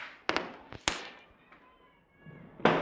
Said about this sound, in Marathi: आता बाहेर चालले फटाके